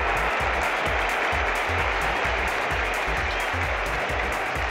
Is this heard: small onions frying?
no